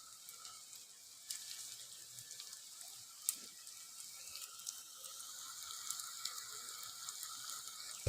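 Mustard and cumin seeds sizzle in hot oil for a cabbage tomato curry, giving a faint, steady hiss throughout with a few soft pops and crackles.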